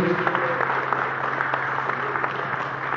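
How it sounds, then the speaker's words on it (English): Brief applause from guests at a motor sport networking event at a university, a steady patter of clapping lasting a few seconds over a low, constant room hum. "If we could just have a quick round of applause while we're here."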